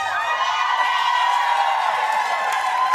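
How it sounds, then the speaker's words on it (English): A television studio audience cheers at a talk show's one-year anniversary, a steady wash of whoops, shouts and clapping from many people, loud and sustained for about three seconds. "We are cheering because it happens to be the one-year anniversary"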